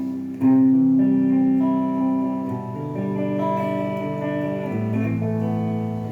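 An electric guitar plays a clean tone with a touch of reverb: sustained chords and single notes ring out steadily and alone.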